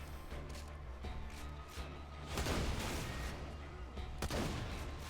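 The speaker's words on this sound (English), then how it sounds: "It's actually kind of fun to stand over here and see all the explosions go" Explosions and gunfire from the video game Borderlands 2 rumble continuously, with heavy booms and rapid shots swelling midway and again near the end over a dense battle din.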